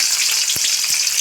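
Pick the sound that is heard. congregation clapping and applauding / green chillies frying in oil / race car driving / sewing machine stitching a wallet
green chillies frying in oil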